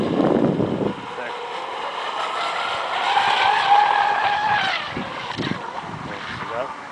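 A car in a driving video game revs and skids, engine whine rising and tires sliding in a steady loud run with several short bursts, while a person talks over it.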